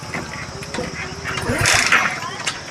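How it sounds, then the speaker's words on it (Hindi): A Hero Splendor BS6 motorcycle with a shorted fuse fails to start: sputtering, uneven cranking and mechanical rattle close by, swelling briefly without catching into a steady idle. "ना सेल्फ से स्टार्ट हो रहा है, ना किक के जरिए से स्टार्ट हो रहा है।"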